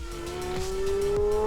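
A Pagani Zonda 760 LM Roadster's 7.3 litre AMG V12 engine and exhaust scream loudly and close, pitch climbing steadily as it accelerates, with rasping crackles between gear changes.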